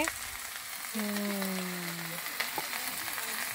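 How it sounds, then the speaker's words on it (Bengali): Cabbage curry bubbles and fries in a pan over a clay village stove, a soft steady sizzle heard fairly close, with a few faint tonal sounds and small clicks around it. "এই যে শিল্পী রান্না বসে দিয়েছে, বাঁধাকপির তরকারি উনুনে,"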